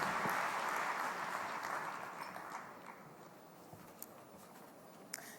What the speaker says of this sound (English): A big round of applause to the panelists, please.